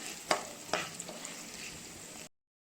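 Spices fried with turmeric in a pan for spicy egg curry: a faint, soft sizzle broken by two sharp clinks of a spoon early on, then it cuts to silence.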